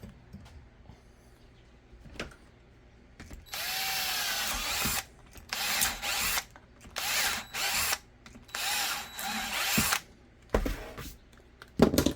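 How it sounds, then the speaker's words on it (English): A power drill bores through a molded Kydex-style holster for a GX4 pistol in a home workshop, with several loud, sustained whining bursts separated by short pauses and a few sharp clicks in between. "All right, let's drill it."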